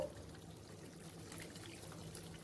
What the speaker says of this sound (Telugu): కొద్దిగా నీళ్లు వేసుకుందాము